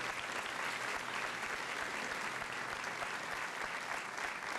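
A high school senior assembly audience gives students a sustained round of applause, dense and even throughout, recorded at a fairly low level from within the hall.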